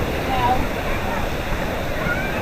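Waves in a wave pool at Volcano Bay water park in Orlando make a continuous, fairly loud wash and rush of churning water, close by and steady throughout.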